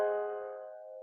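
A German augmented sixth chord is played as one sustained chord that decays slowly over about a second, heard cleanly with nothing else around it.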